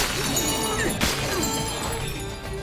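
Glass shattering under Donkey Kong's punch in the video game Donkey Kong Bananza, a bright crash at one point over continuous busy game music and effects.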